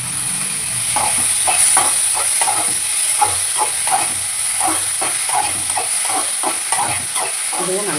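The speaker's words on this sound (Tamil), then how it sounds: "வெங்காயம் போட்டு வதக்கணும்." Onions and tomatoes sauté in a pan while being stirred, a steady hiss and sizzle underneath with repeated soft scraping strokes at a regular pace, close and fairly loud.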